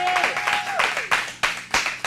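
Studio audience applause for a performer on a talk show, brief bursts of claps with a sustained musical tone fading underneath.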